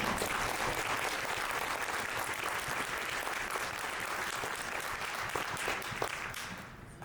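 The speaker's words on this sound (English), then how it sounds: "Please have a huge round of applause for her." A conference audience at a women's empowerment event in Edmonton, Alberta breaks into applause, a dense, continuous clapping that stays steady for several seconds and then tapers off toward the end, heard at moderate distance.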